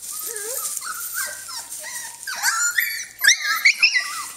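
A Norwegian Elkhound puppy whimpers and whines in a run of rising, thin cries, which turn into sharper yips toward the end, close and fairly quiet.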